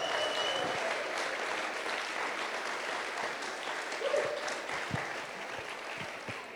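A church congregation claps steadily through a sermon pause, dense overlapping applause in a large room that slowly thins, with a few scattered voices beneath.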